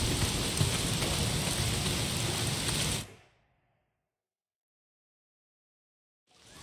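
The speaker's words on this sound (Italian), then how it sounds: "se continua a piovere è così" Rain in the video game Days Gone falls in a loud, even hiss for about three seconds, then cuts off abruptly into silence.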